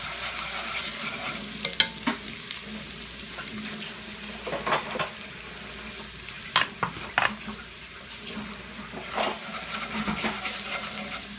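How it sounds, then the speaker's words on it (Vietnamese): Garlic stir-frying in oil reused from frying noodles in a home kitchen pan, a steady low sizzle broken by scraping and clattering stirring strokes, close by and with no talk. "Mình bỏ vô xong rồi phi tỏi."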